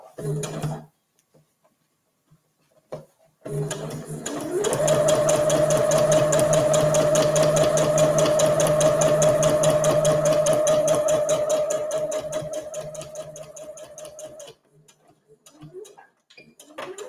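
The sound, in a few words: sewing machine stitching side seam of gift bag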